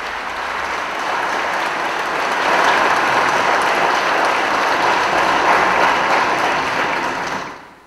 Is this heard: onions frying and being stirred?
no